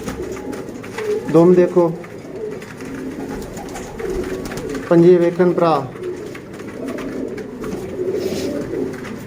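A golden pigeon coos in two distinct bursts of rolling, throaty calls, with someone talking over the quieter stretches between them.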